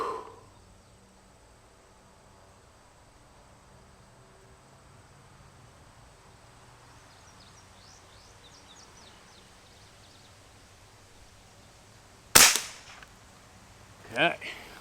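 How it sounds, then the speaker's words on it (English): A target rifle fires one sharp, loud crack late on, then a smaller report or echo follows about two seconds after, against quiet outdoor wind. "let's shoot the first shot here"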